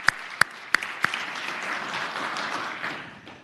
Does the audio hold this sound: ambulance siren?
no